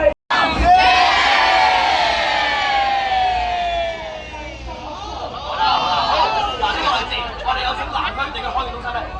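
A large crowd at a dragon boat race in Aberdeen, Hong Kong, during the Dragon Boat Festival cheers and whoops loudly and steadily. Shouts carry over the noise and a voice may come through the din.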